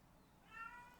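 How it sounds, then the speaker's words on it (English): A single faint, short cat meow rises briefly in a quiet indoor room, distant and alone with no talk. "Sorry about the cat being a brat."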